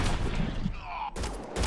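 Gunshots crack in the video game Mass Effect Andromeda as a short burst of loud, sharp bangs, with a brief lull and a faint tone before more shots hit.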